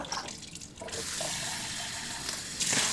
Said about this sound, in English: Rinse your cans out so that they're not smelling up your recycling bin